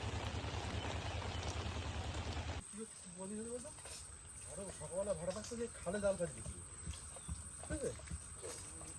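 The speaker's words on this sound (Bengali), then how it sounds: "বৃষ্টি পড়ছে" Steady, dense patter of rain on a riverbank fills the first few seconds, then gives way to people talking over quieter outdoor background.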